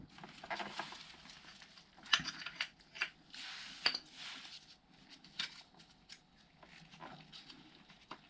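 Brake pads worked out of a motorcycle brake caliper, giving faint close-up metallic clicks, taps and light scraping in an irregular rhythm, with no one talking.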